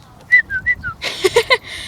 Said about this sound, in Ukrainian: Я заспокоюю її найчастіше свистом